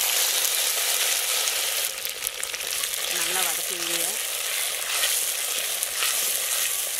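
Small shallots and peeled garlic cloves sizzle steadily in hot oil, a dense continuous frying hiss close by, with a brief tonal clink partway through.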